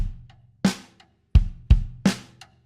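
Simple rock drum beat on floor tom and bass drum for a Trinity Rock & Pop Grade 2 piece, with low booming kicks alternating with sharper tom hits in a steady rhythm, close and alone.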